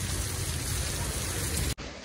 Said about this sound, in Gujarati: જો મિત્રો ફૂલ વરસાદ ચાલુ